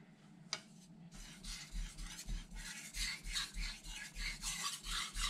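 A kitchen knife is drawn over a Naniwa Aotoshi whetstone with slurry, giving a close, rhythmic wet rasping of repeated strokes at a steady pace, with no talking.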